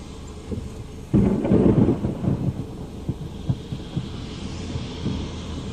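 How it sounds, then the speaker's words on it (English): Thunder booms in a sudden loud crash followed by rolling rumbles that fade into a lower, uneven grumble. "Thunder."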